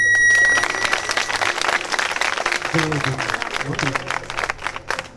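Lycée students in Togo clap and cheer at a school gathering. The applause is loud and dense, and lighter talk and a voice run through it before it thins out.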